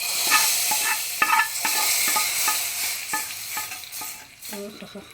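Hot mustard-seed tempering with sambar powder is tipped into a pot of sambar made without coconut, giving a continuous oily sizzle broken by repeated sharp stirring clinks and one louder splash-hiss near the end, with no talking.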